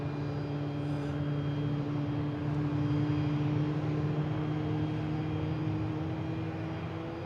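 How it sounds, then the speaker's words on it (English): A Lufthansa Airbus A350-900 airliner at Boston Logan International Airport gives a steady engine roar with a sustained tonal whine, moderately distant and unbroken, no voices. "Lufthansa A350-900."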